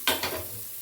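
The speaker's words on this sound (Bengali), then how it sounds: "উচ্ছেটা ভাজা হয়ে গেছে।" Bitter gourd frying in hot oil in a wok, a brief close hiss of sizzling with a couple of stirring scrapes at the start, fading quickly.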